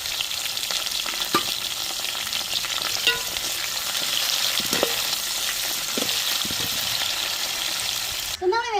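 Onions, green chilies and curry leaves fry in a pan for a fish curry, giving a steady loud sizzle with occasional stirring clicks and a brief sharper scrape near the end.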